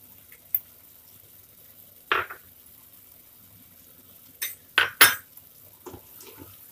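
A spoon stirs amchur powder and sugar into a pumpkin dish, sounding as a few sparse metallic clinks and scrapes against the pot over a quiet background.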